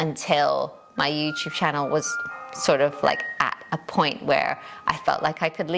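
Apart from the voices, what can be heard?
doorbell ringing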